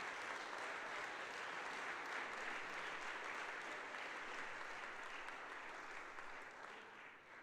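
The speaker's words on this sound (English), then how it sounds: "Let's give them a round of applause." Faint, distant applause from a gathered audience at a 95th birthday celebration for Rev. James Lawson, honoring church staff and volunteers; an even, continuous patter of clapping that tapers slightly near the end.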